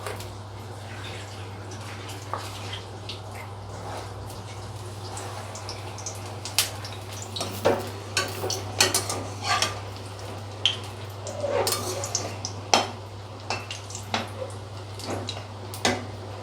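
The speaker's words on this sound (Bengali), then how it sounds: "বন্ধুরা, আমি বলগুলো সব বানিয়ে নিয়েছি, এবার বেসনে ডিপ করে ভাজবো।" Kachki fish balls dipped in besan batter fry in hot oil in a wok with a constant low hiss, broken by crackling pops and bubbling bursts that grow busier toward the end.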